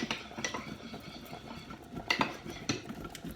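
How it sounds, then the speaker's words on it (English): Cheese being grated for macaroni cheese in a home kitchen, a series of close, light rasping and metallic scraping strokes at an uneven rhythm, fairly quiet. "I'm grating away here with the cheese"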